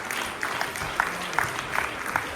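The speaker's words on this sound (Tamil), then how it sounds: "ஒரு பெரிய கைத்தட்டல் கொடுங்க" Audience applause for children at a book review awards ceremony, a steady wash of clapping across the whole clip with brighter bursts of individual claps.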